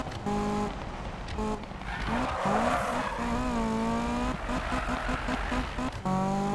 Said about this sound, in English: Oh, you can actually get this thing to slide a little bit